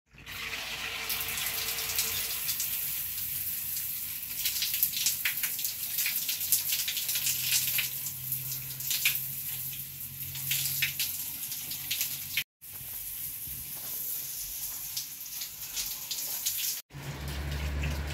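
Water from a bathroom shower runs in a steady, soft hiss for about eighteen seconds, with two brief cut-outs near the end and no talking.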